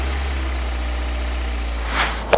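Roewe RX5 MAX SUV engine started by face recognition, a steady low idling rumble close by with a brief rise near the end, no voices.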